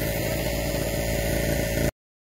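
An ordinary generator engine runs at a steady, loud drone for about two seconds, then cuts off abruptly into silence.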